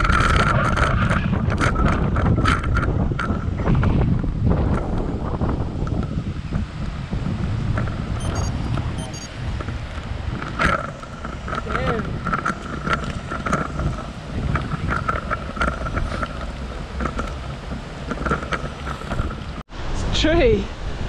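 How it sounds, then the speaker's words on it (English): Strong wind buffets the microphone while cycling on a road, a loud roaring gust that gradually eases, with riders talking over the rushing noise. "So windy."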